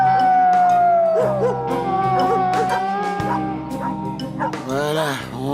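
Dogs howl, yip and bark in a cartoon dog pound, a long wavering howl leading into a mix of overlapping barks and whines, close and loud, with voices mixed in.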